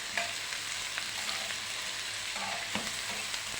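Peppers and onions frying in a pan for a beef liver and head-meat dish, a soft steady sizzle with scattered scraping clicks of stirring, close and fairly quiet.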